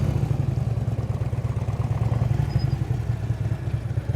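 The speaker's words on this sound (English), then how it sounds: "You hear when you first started moving, you hear the bike going glug, glug, glug, glug." A motorcycle engine glugs at low speed during slow-speed riding practice, a steady close, throbbing low rumble with a faint clatter that holds evenly throughout, with no voices.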